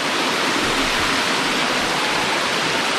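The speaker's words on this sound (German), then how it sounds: "und der Wasserfall, wunderschön" The Wedenbach tufa waterfall in the Schauertal at Streitberg, Franconian Switzerland, pours in a loud, constant broadband rush of falling water, close and unbroken, with no voices.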